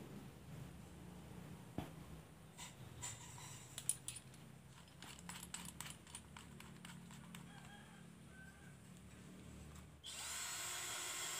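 A 12V J.LD tools mini cordless drill running at speed level 1 with a sharpened, modified bit, producing a wobbly, labored whir with scattered clicks and knocks, then a louder steady hiss near the end.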